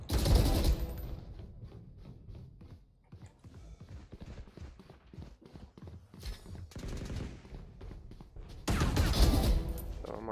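Valorant gunfire cracks out in loud rapid bursts at the start and again near the end, with quieter rhythmic ticking and footstep-like clicks in between; no speech is audible.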